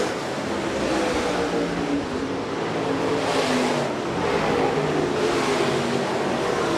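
Hobby stock race cars racing around the Shelby County Speedway dirt track, a continuous loud engine roar swelling and fading as cars pass, with no voices.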